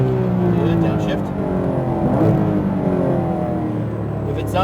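Porsche GT3 RS engine on a racetrack braking and downshifting, a steady loud engine drone with shifting tones and a brief rise in revs, heard from inside with an instructor talking over it.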